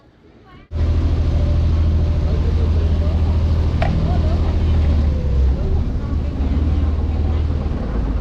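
A boat engine near a cave in Phong Nha, Vietnam, starts up and runs steadily, a loud continuous low rumble with water noise, lasting the whole stretch after a short quiet opening.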